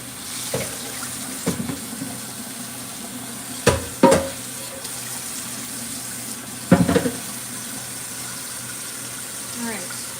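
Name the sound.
water running from a tap while washing a pan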